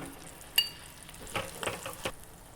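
Paneer pieces fry in hot oil while being stirred for a pickle, giving a soft steady sizzle with a sharp metallic scrape and several quiet stirring clacks, close and faint.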